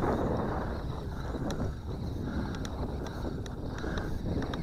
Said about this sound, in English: Breezy day today.